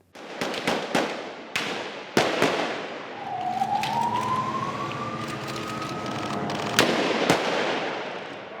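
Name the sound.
gunfire in street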